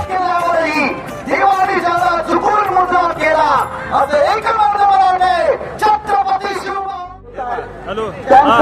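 A large crowd at a tennis ball cricket final in a Kolhapur Premier League tournament ground, loud dense cheering, shouting and babble with rising whoops, close and continuous.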